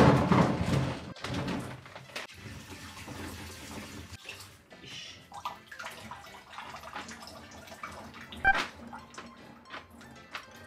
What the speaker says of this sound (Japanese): このトッポギの方も水洗い一回していきたいと思います。